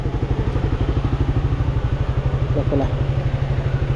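A parked motorcycle engine idles loudly nearby in a fast, even putter of regular pulses, with a brief spoken phrase over it.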